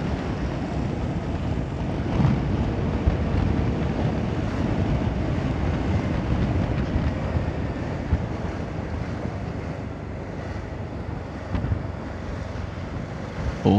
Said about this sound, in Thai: ลมมันตีหน้าอกครับ